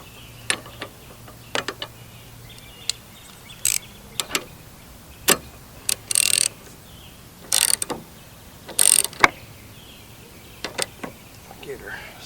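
A wrench tightens the blade bolt on a lawn mower, giving short, close clicking and ratcheting bursts separated by pauses, fairly quiet overall.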